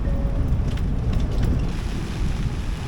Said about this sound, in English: Got some strong winds and some rain now.